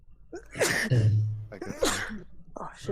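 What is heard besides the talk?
sneeze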